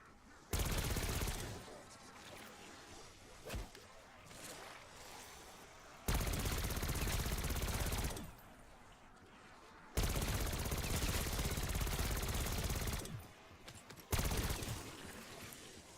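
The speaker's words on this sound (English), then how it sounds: "This LMG is pretty solid." Long bursts of light machine gun fire in Black Ops 6, several sustained volleys of rapid automatic shots separated by short pauses, loud and close.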